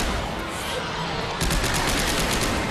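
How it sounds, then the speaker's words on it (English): A rapid-fire crafted weapon with acid damage shooting enemies in Dead Space 3: a dense, continuous stream of quick shots, loud and close, with a regular fast pulse in the second half. "This is just going to fire really fast, I believe. And it's just going to mow them down."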